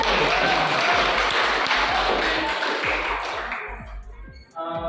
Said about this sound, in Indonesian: Aplaus dulu untuk kelompok.